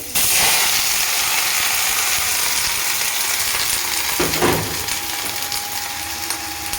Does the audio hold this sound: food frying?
yes